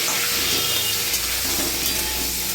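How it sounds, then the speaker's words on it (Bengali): Boiled eggs fry lightly in oil with salt and turmeric, giving a dense, even sizzle that holds steady and close throughout, with no talking. "চলো ডিমটাকে একটু হালকা ফ্রাই করে নিই।"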